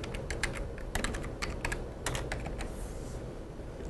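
Fingers type on a computer keyboard, giving a close, steady run of crisp key clicks with a few quick clusters over a soft background hiss.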